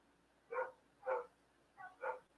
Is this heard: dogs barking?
yes